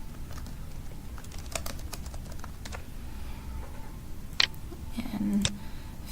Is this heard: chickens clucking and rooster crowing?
no